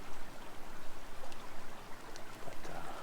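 Silver Creek at Jay Cooke State Park in Minnesota flows steadily nearby, a soft continuous babbling and gurgling of creek water with no voices.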